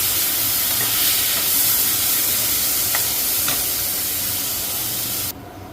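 Grated coconut fries in a pan while it is cooked until its moisture is gone, giving a steady, close sizzle with light stirring scrapes, even and unbroken until it cuts off near the end.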